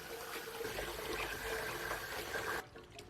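Running water from a tap splashes steadily over hotpot ingredients being rinsed clean in a home kitchen, close and continuous, then cutting off abruptly near the end, with no talking.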